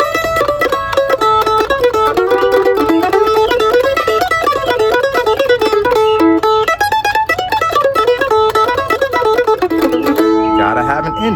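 Fiddle plays the B part of the old-time tune Old Joe Clark, a continuous, loud run of bowed notes with a steady rhythm and double-stop harmonies, ending on a held chord.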